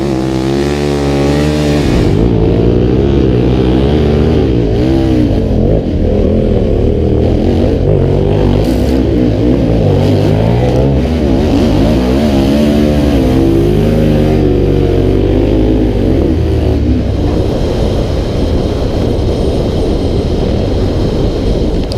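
A KTM 1190R adventure motorcycle roars along a beach, its engine droning loud and close with rising and falling revs through gear changes and wind rush throughout, no talk.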